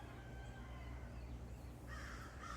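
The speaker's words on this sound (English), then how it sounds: "You're probably just hearing a few crows," Several crows caw far off over a steady rumble of road noise on a rural property, with a brighter burst of calls near the end.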